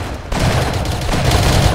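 Loud, dense rifle gunfire in a Civil War-era shooter with Spencer and Henry rifles, shots rattling together in a continuous barrage after a brief quiet start, with no talking.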